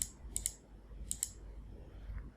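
A computer mouse gives two quick double-clicks, sharp and fairly quiet, with a low room hum beneath and no talk.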